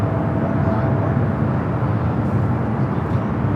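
A jet airliner rumbles steadily through its landing at Los Angeles airport, a broad low roar heard from outside and holding at a fairly even loudness for a few seconds.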